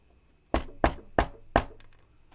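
Four sharp knocks, evenly spaced in quick succession, a voice imitating mysterious knocking heard from a bathroom, close and punchy against near silence.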